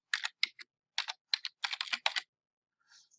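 Quick bursts of keystrokes on a computer keyboard as a search is typed, close and crisp in clusters, then a short pause and a faint final tap.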